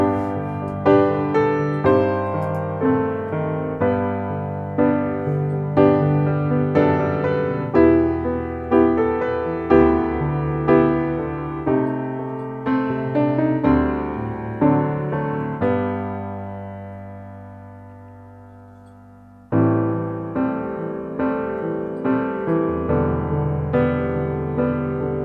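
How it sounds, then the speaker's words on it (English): Sampled Steinway Model B grand piano, a fairly dry authentic recording without added reverb, plays a steady rhythmic passage of struck chords with one long decaying chord before resuming, clear and alone. "this is a really nice sample library of a Steinway Model B Grand piano"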